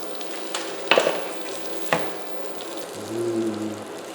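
Pierogies fry in butter in a pan, three at a time, producing a steady close sizzle broken by a couple of sharp clatters as they are placed or moved, with a soft rise near the end.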